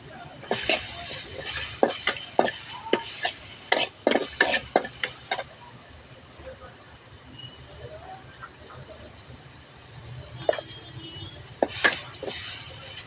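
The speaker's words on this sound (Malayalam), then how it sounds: "തക്കാളി നന്നായി വഴറ്റിട്ടോ" Tomatoes sautéing in a pan for a homestyle Kerala brinjal curry, with soft stirring scrapes and clinks of a spoon against the pan in irregular bursts, faint sizzle beneath, and quieter gaps between.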